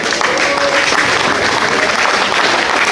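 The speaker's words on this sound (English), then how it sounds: "I know y'all can clap our president louder than that." Loud, sustained applause from an audience greeting a president at a diaspora community event, dense and steady throughout with no break.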